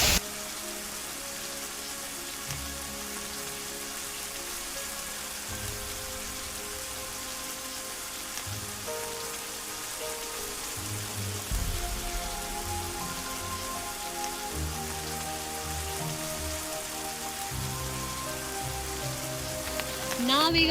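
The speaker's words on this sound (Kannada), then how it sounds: "ಇವಾಗಂತೂ ಭಯಂಕರ ಮಳೆ ನೋಡ್ಬೋದು" Heavy monsoon rain pours steadily at the Bisle Ghat viewpoint in Sakleshpura, a dense, continuous hiss of drops hitting surfaces that swells slightly midway and carries on without talk.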